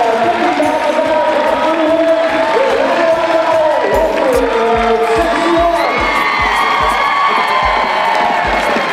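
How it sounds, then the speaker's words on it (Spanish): The crowd at a $50,000 show jumping grand prix in Roanoke, Virginia, cheers and whoops loudly through a victory lap, with high shouts and children's voices plus rhythmic low thumps, a dense, sustained roar throughout. "Y aquí la ovación a la vuelta a la victoria para el venezolano."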